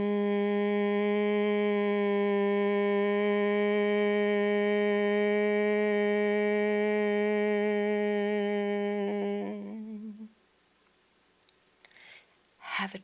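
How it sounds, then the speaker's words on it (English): Humming bee breath from a restorative yoga session: one long, steady throat hum held for about ten seconds, close and clear, then fading into quiet room noise with a faint rustle. "And it's called the humming bee. So it's a kind of a hum."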